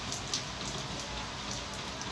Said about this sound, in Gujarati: આવી બધી વરસાદ ચાલુ છે